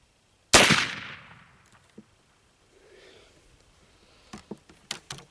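A single loud muzzleloader shot with a 50-grain powder charge cracks sharply and rings off, then a few faint breaths and small sounds follow.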